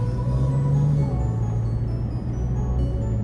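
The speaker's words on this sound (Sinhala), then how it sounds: "ඩීසල් සද්දේ හොඳට අපිට ඇතුළට එනවා." Toyota Hilux Rocco diesel engine droning steadily from inside the cabin, a low continuous hum with a slight pitch rise early on, moderately loud and without talk.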